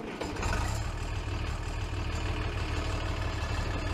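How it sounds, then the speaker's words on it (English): Farmall 806 tractor engine in Farming Simulator 19 catches and settles into a steady, deep idle, a low rumbling drone that stays loud and even throughout with no talking. "we will fire up the tractor"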